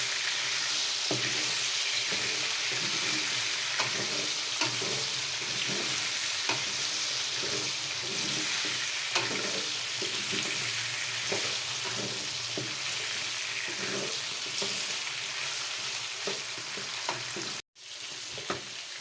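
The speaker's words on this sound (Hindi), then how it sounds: "अब आलू को फ्राई करेंगे।" Cubed potatoes and eggplant stems fry in hot oil in a pan, a steady loud sizzle with occasional stirring scrapes throughout, no voices.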